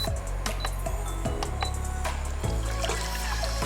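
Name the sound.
water poured in to melt palm sugar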